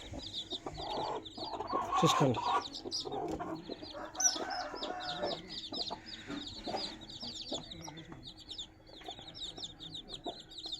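A flock of one-week-old chicks from a parrot-beak rooster cross, peeping continuously in dense overlapping chirps, with a nearby cluck and brief wing flutter and someone speaking briefly.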